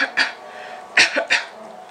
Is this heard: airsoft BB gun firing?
no